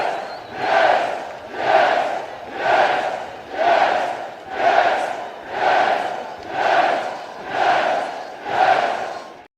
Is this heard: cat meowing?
no